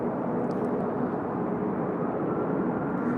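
A JetBlue Airbus A321 arriving at LAX: a steady, broad engine roar holds at a constant level throughout, fairly loud, with no voices.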